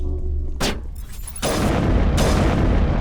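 Gunfire and blasts in the Mass Effect video game: a sharp burst followed by sustained loud booming, with dense heavy impacts filling the latter half.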